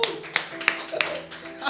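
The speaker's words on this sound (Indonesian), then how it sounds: "saudara boleh beri tepuk tangan buat Tuhan kita" A church congregation claps for God during an Indonesian sermon, a few loose uneven claps under continuing speech.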